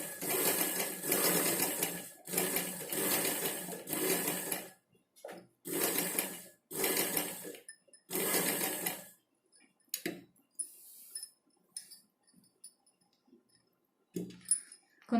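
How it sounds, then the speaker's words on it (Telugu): An electric sewing machine stitches the neckline of a readymade dress in loud bursts of rapid whirring, with pauses between runs and small clicks and handling sounds in the gaps. "కరెక్ట్గా ఈ డిజైన్ వెంపటి మనం స్టిచ్చింగ్ చేసుకోవాలి."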